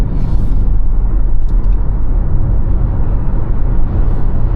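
An MG4 Comfort electric car with 170 hp accelerates hard, heard from inside the cabin as a loud, continuous low road-and-wind rumble with no engine note and no talking.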